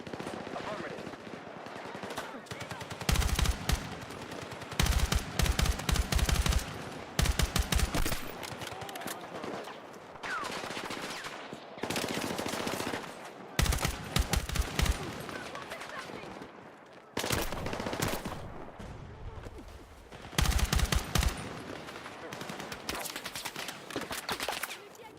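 Bursts of automatic gunfire in the video game Battlefield 6, several loud volleys of rapid shots separated by brief pauses, with a voice heard between them.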